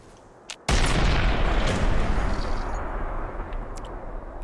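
A test-fire explosion in the video game Fallout: one sudden heavy boom with a rumbling blast that lingers and slowly fades, loud and close, with a faint pop just before it.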